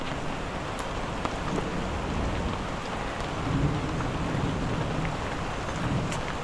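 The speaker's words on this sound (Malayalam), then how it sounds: "ഇടിയൊക്കെ വെട്ടിയുണ്ടല്ലോ" Heavy rain pours steadily while a low rumble of thunder swells briefly in the middle.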